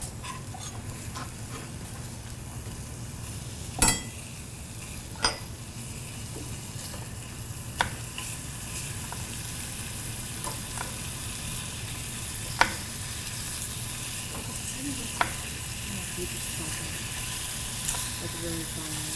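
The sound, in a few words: bacon frying in a pan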